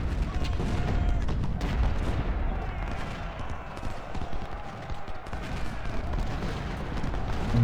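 Battle din from the Civil War strategy game Ultimate General: Civil War, a dense continuous rumble of musket volleys and artillery booms at a distance, with someone talking over it.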